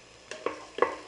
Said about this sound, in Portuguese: Aí, dourei a cebola um pouquinho.